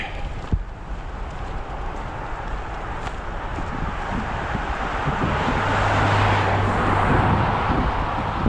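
A car approaches and passes along a road, its broadband rush swelling over steady wind buffeting the microphone outdoors, with a low hum building toward the end.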